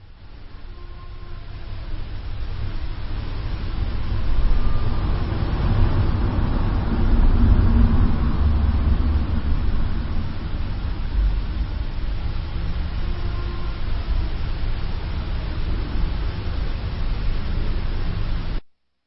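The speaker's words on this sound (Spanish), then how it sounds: "son varios lamentos antes y después del sonido del motor de un coche" A car engine drones low and steady through a muffled, band-limited recording played back as paranormal audio, swelling slightly in the middle under a hiss of static.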